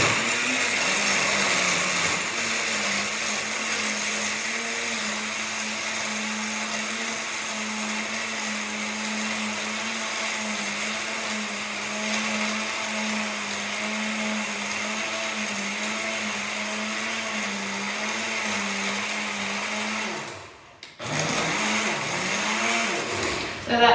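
A blender running continuously at high speed crushing ice for a green spinach smoothie, a loud steady whirring drone that cuts off abruptly near the end, followed by a brief restart.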